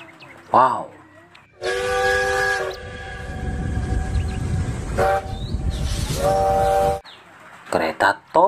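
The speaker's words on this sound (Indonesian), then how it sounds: "Wow, kereta api." A Thomas-style train sounds long, loud steam whistle blasts, two sustained calls and a short one, over a continuous rolling rumble of the moving train, with brief voice sounds at the start and end.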